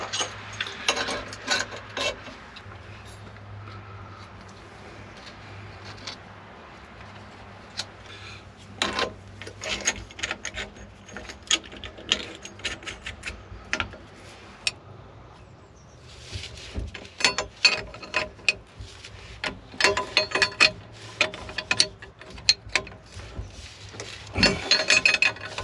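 A pipe coupler is tightened on 22mm plumbing for a home water filter system, with scattered ratcheting clicks, metallic scrapes and rubbing of fittings, quiet and close, in irregular bursts.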